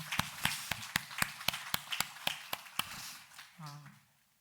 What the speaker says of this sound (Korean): 우리 곁에 있는 분들 격려하는 박수로 하나님께 영광 돌립니다